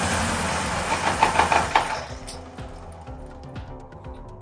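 A 1977 Honda CB750A Hondamatic motorcycle engine idling on choke gives a close, rhythmic chugging with a breathy hiss at first, settling into a quieter, uneven idle of soft knocking pulses.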